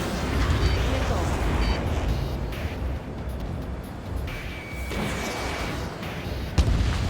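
Long-range LAAM and HVAA missiles launch and explode in the air-combat game Ace Combat 7: Skies Unknown, a dense rumbling barrage of booms and blasts with faint cockpit warning tones.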